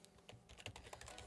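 Quick, quiet keystrokes on a computer keyboard tap in a steady stream while code is entered, with soft clicks close up and no talking.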